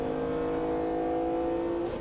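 A car's mid-mounted V6 engine revs with a steady, loud, buzzing drone that holds its pitch for about two seconds before easing off at the end.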